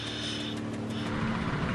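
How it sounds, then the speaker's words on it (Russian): Boat engines on a work vessel at a diving site run at full power, a steady, loud, close roar with a constant low hum that continues for the whole moment. "Моторы работают на полную."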